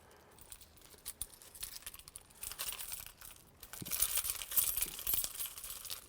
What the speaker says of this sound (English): Say I want to take this key off.